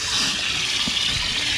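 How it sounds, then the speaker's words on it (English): Water gushes steadily into ice chests full of live crawdads being cleaned before a boil, a loud, close, continuous rushing fill with no pauses. "Just gonna add water"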